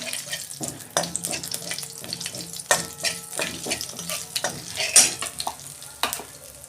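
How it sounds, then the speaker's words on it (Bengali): Panch phoron spices crackle and sizzle in hot oil in a kadai, a busy steady frying hiss with stirring clatter and occasional sharp pops, close and fairly loud. "পাঁচ ফোড়ন দিয়েছি,"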